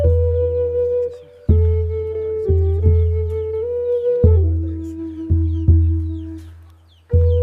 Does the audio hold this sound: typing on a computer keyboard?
no